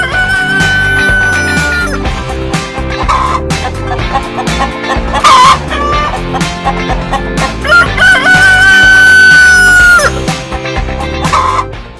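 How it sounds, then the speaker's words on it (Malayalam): Chickens clucking loudly and steadily with a rooster crowing twice, long drawn-out calls standing out over the busy, close clucking of the flock. "അതാ സാറേ അവന്റെ കോഴി, അതാ."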